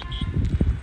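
A mare's hooves clop on the ground at a walk, a few close dull thuds in quick succession over faint background noise.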